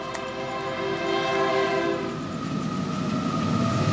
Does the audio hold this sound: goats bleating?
no